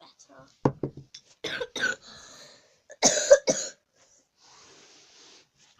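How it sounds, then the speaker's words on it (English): A person coughs a few times in short, sharp bursts at close range, mixed in with brief speech and quiet pauses. "Sorry about the coughing, guys."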